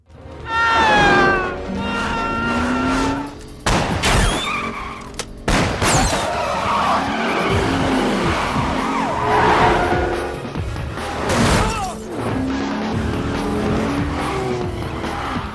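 A taxi converted to a racing setup chases robbers in a car, with loud roaring engines, skidding, squealing tires and sharp crashing bursts filling a busy, continuous chase scene.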